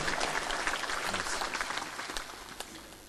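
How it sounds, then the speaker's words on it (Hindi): An audience at a Hindi spiritual discourse clapping together, a dense burst of applause that starts strong and gradually fades over a few seconds. "ताली इसलिए बजवाता हूं"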